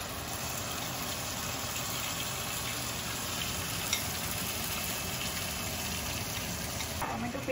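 Tomato paste fries in a pan with a dense, even sizzle that holds steady throughout, with faint stirring under it.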